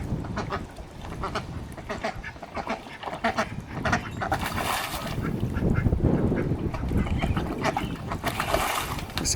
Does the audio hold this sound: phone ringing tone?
no